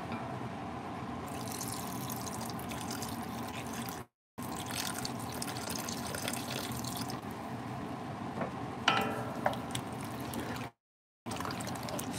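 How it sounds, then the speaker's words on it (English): Liquid pours into potato soup inside a Finex 7.25-quart cast-iron Dutch oven, a steady close splashing trickle that runs for several seconds, broken by two brief gaps, with a few drips toward the end. "Add a little bit more liquid."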